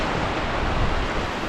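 A rushing waterfall on a mountain trail of the Tour du Mont Blanc roars as a loud, steady, broadband wash of falling water, close by and alone without any voices.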